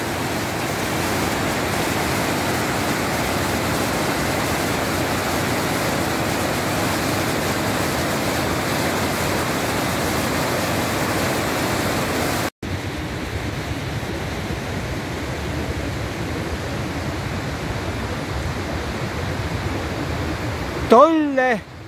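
Rushing mountain stream and waterfall in Pitztal, a steady broadband roar of water that holds throughout, softening slightly partway through and then rising again, with no talk heard.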